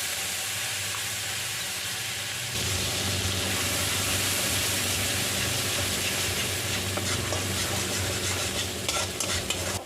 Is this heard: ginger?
yes